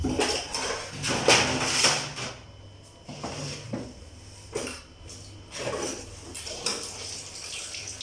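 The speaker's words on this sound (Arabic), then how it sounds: "واغسل بقى المواعين" Dishes being washed in a home kitchen sink, with irregular clinks, knocks and clatters of plates and utensils plus intermittent splashing water, close by and moderately loud without talk.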